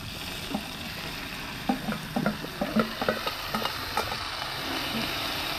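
Wild dove meat frying in a pan, a steady sizzle with irregular stirring clatter and scraping spikes through the middle, no talking.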